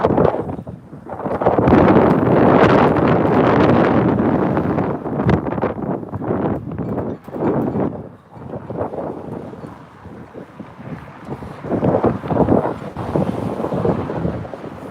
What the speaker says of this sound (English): I tried to walk over the bridge, but it's way too windy.